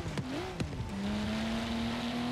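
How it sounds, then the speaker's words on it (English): Car turbo spooling in the video game Forza Horizon 3: a rising whistle-like tone that swoops upward and then holds steady, over quieter engine noise, with a couple of brief sharp transients early on. "Forza Horizon 3 has the best turbo spool where you can actually hear it."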